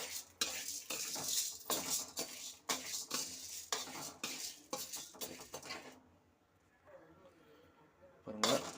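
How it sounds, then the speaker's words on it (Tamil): Lentils are dry-roasted without oil in a kadai over a low flame for paruppu podi, a rhythmic scraping and rattling of a spoon stirring the dry lentils, pausing near the end before one last clatter. "இப்போ பருப்பு போட்டு வறுத்துக்கிறோம்"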